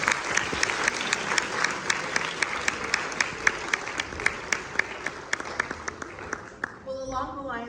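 An audience at an advanced research program presentation gives a dense, even round of clapping that carries on for several seconds, then fades as a voice begins speaking.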